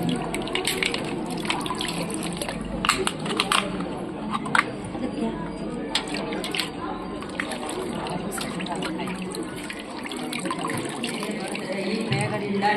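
Water is poured steadily into a bottle holding a ball during a school science demonstration, a continuous splashing gush with faint voices in the background.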